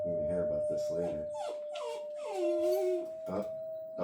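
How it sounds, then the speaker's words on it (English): A pet dog howls and whimpers in rising, wavering tones against a steady electronic tone, with someone talking in between the howls. "dog's already not happy"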